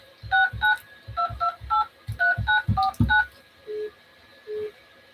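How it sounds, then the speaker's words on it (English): Telephone keypad DTMF tones entering a phone number at an automated prompt, about a dozen crisp beeps in quick groups followed by two lower tones, clear and close. "Starting with the area code, please enter the 10-digit phone number where you can be reached, followed by the pound sign."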